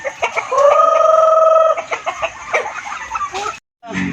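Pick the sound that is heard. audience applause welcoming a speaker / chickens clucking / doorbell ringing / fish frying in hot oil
chickens clucking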